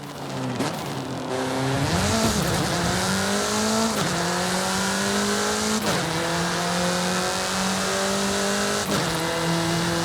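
In Forza Horizon 5 a car accelerates hard, its engine rising steadily through several gear shifts with brief drops between them, loud and close, a little tire noise early on and no talk.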